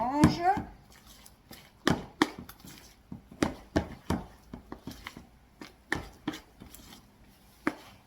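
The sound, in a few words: mixing sourdough starter in a container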